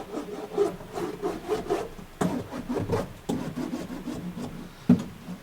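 Sleeve pad soaked with reducer rubbed back and forth across a vehicle floor, a close scrubbing swish in repeated strokes with a couple of sharper knocks.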